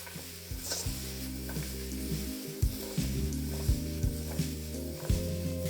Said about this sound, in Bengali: এবার এই কুমড়োটাকে আপনাদের ততক্ষণ ভাজতে হবে ততক্ষণ এটা একদম লাল লাল হয়ে ভাজা হয়ে যাচ্ছে।